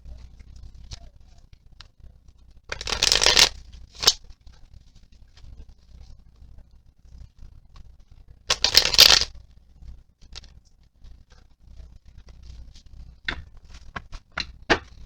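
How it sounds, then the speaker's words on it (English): Rider-Waite tarot cards are shuffled in two short, crisp riffling bursts several seconds apart, with soft taps and card handling in between and quiet around them. "I'm going to go ahead and shuffle another couple times."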